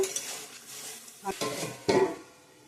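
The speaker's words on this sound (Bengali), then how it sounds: "ফুলকপিটা একটু ভেজে নিছি" Cauliflower frying and being stirred in a pan for a potato, cauliflower and chickpea curry, a close sizzle broken by a few scraping spoon strokes and a clatter against the metal.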